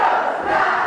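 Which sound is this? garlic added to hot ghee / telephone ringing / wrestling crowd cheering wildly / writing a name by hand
wrestling crowd cheering wildly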